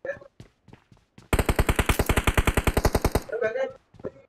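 An automatic gun fires in a video game in one loud, rapid, steady burst of about two seconds, with players talking just before and after.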